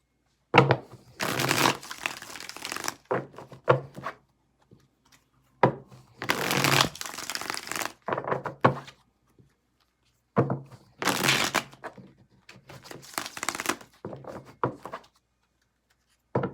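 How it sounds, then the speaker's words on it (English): Tarot cards being shuffled by hand in three separate bouts, each a crisp flurry of riffling and slapping card sounds, close and clear with quiet pauses between. "Last shuffle."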